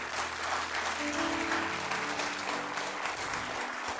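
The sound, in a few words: applause in church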